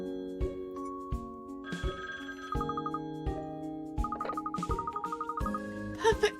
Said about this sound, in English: Oh, that's the phone. I'll get it.